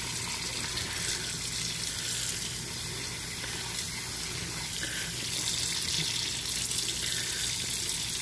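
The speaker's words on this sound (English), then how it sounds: "you just take the frozen pasta and you run it under warm water if it hasn't defrosted" Warm tap water runs steadily over frozen cooked pasta in a kitchen sink, a continuous even splashing rush with no talk.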